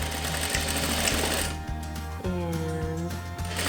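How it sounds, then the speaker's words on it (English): Sewing machine backstitching a quilt seam for a scrappy five-piece quilt, steady fast mechanical stitching with rhythmic thumps and a brief reversal, close and loud throughout, no talk. "And I like to backstitch my starting and ending seams on everything that I sew."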